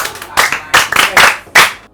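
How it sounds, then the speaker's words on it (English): A group claps hands in several quick, uneven bursts, loud and close, with brief pauses between rounds. "I'm going to ask clap hands for her."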